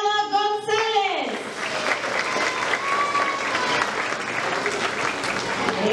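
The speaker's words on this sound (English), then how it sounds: "another big round of applause for our students of Trimester 3" Parents applaud first-grade students at a trimester awards ceremony in a school setting: a voice speaks briefly at the start, then sustained, dense clapping from the audience carries on steadily throughout.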